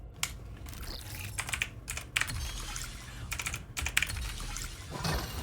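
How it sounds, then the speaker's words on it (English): Keys clatter on a computer keyboard during a gaming stream of Nine Sols, bursts of rapid close tapping with short pauses in between, no speech over it. "remember I can use my keyboard?"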